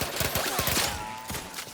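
Rapid bursts of automatic gunfire from The Outer Worlds 2 rattle in quick succession, loud and close, trailing into a ringing, whirring electronic tail before a last cluster of shots.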